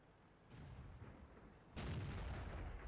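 A tank cannon shot and ammo rack detonation in World of Tanks, heard as a booming blast at about 1.8 seconds after a lighter earlier report, with rumbling tail and background battle noise and no talking.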